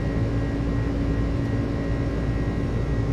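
Airliner engines spooling at takeoff power in Microsoft Flight Simulator, heard as a loud, steady roar with a constant tonal hum throughout and no speech.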